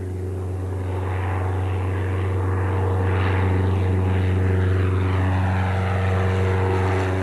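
A Cessna 172 floatplane's propeller engine drones steadily and loudly during landing, with a constant low hum and buzzing harmonics throughout, no voices present.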